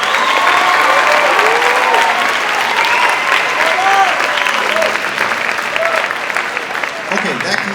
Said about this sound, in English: And just a very quick round of applause for everybody before our break.